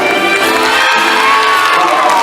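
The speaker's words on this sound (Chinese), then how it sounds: "给自己的掌声加尖叫声一下" A concert crowd in a hall at a charity show cheers, whoops and screams together in a loud, dense wash of voices heard up close and with no break.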